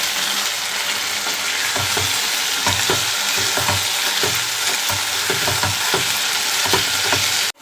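Prawn masala fry (chemmeen) sizzling steadily in oil in a pan, with repeated scraping stirring strokes of a spoon throughout, close and fairly loud, no talking.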